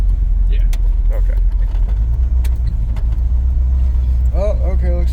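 An old farm truck's V8 engine cruises on country roads, a heavy, continuous low drone with road roar and small interior rattles, close and loud, with voices talking over it toward the end.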